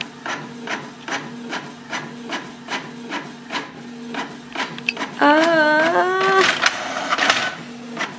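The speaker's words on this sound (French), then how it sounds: "ça s'imprime" A printer runs with steady rhythmic mechanical clacks, then a louder whirring feed sweeps upward before the pass finishes; a brief voice is heard.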